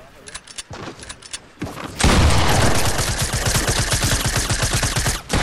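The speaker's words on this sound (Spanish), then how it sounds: "Disparo una escopeta" Rapid shotgun blasts and gunfire from a Fortnite match, a burst of dense, loud repeated shots that runs continuously over the second half, preceded by quieter scattered game sounds and talk.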